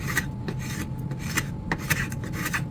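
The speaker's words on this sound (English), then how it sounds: "that's how you sharpen a Stanley number 151 Spokeshave blade using a Tormek" A Stanley No. 151 spokeshave blade against a Tormek water grinding wheel, making a steady scraping rasp with repeated strokes over a low motor hum, no voices.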